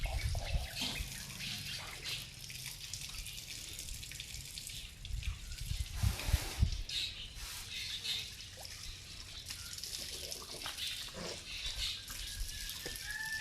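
Tap water running steadily during handwashing, a continuous close splashing and trickling hiss with a brief louder splash midway, faint talk and outdoor ambience behind it.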